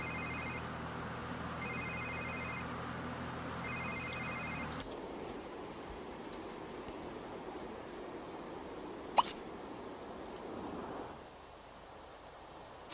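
A telephone rings in The Sims 3 video game, with three short electronic ring bursts over a steady game soundtrack, followed by quieter ambience and a brief click.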